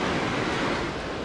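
Ocean waves breaking on a beach bar while shore fishing for a shark, a loud continuous wash of surf with some wind noise.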